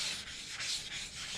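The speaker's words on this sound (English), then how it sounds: "Basically until you don't hear much noise when you're running the sandpaper over it" Steady back-and-forth scratching of 400-grit sandpaper rubbed by hand with light pressure over a rusty car hood, close and continuous, with soft strokes swelling and fading in rhythm.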